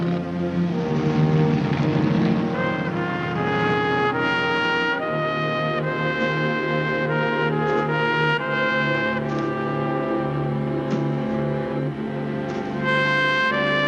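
A motorcycle engine drones steadily while herding kangaroos in the outback near Broken Hill, its pitch rising and falling as the rider throttles, loud and continuous with no talking.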